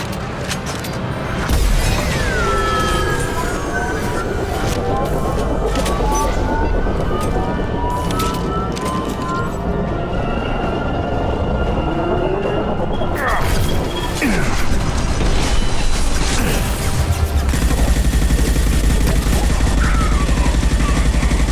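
In the Mass Effect 2 video game, gunfire rattles at injection tubes amid crashing impacts and booming debris, a sustained chaotic barrage with occasional voices mixed under the action.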